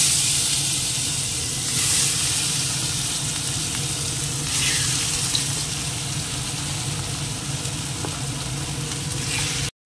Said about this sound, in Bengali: এবার এর মধ্যে দিয়ে দেবো মাছগুলো